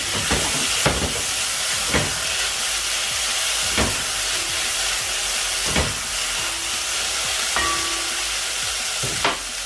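Tomatoes sizzling in a hot pan beside crispy-fried meat, a steady loud frying hiss with occasional sharper pops and clinks throughout.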